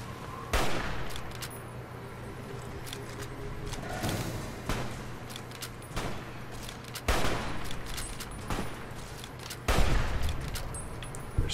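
Armor-piercing rounds fire in a video game as sharp, loud, repeated gunshots spaced a few seconds apart, each a sudden broadband crack over a low background hum.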